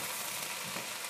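Cauliflower pieces crisping in oil in a pot, a dense steady sizzle with faint stirring scrapes, close but quiet, no talk.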